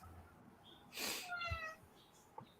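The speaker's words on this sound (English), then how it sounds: "That's my cat." A house cat gives a single brief meow at moderate distance in a quiet room, with a faint rustle before it and a small click after.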